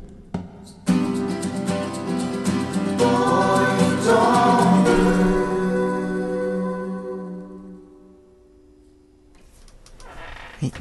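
A song plays with layered melodic instruments and a steady tonal bed. It starts abruptly, swells to full loudness, then fades out near the end, with no talk over it.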